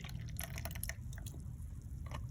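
Watery glue and warm-water mixture pours from a bottle into a bowl for glitter slime, a steady close liquid splash with drips throughout, no talking.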